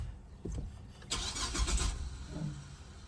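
A car engine being started with the key, with a brief cranking burst followed by the engine catching and running low and steady nearby, after some faint handling noises.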